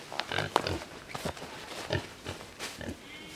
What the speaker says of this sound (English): as you can hear, the pigs are getting quite excited because they know it's food time